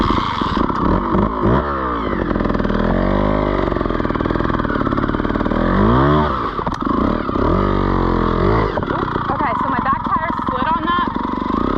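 Trials motorcycle ridden through a section, its engine idling and revving in bursts with throttle blips throughout, fairly close and steady, with people talking over it.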